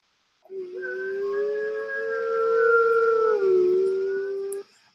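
People imitate wolves with a long, steady, wavering howl, loud and sustained for about four seconds with a slight dip in pitch near the end and no other sounds.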